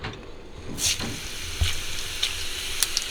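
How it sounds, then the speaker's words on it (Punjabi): Cumin seeds sizzle in hot oil in a kadhai, with a steady frying hiss throughout, a sharp crackling burst near the start and scattered pops as the spices are stirred; no one speaks. "ਕਿਉਂਕਿ ਕੜਾਹੀ ਆਪਣੀ ਗਰਮ ਸੀਗੀ ਜੀਰਾ ਪਾਉਂਦੇ ਸਾਲ ਹੀ"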